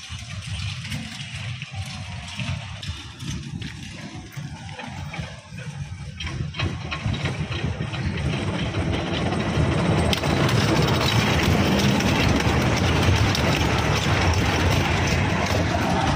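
A small amusement park ride train at a water theme park in Coimbatore rattles along with clattering, ratcheting mechanical sounds that grow louder and denser as it draws nearer.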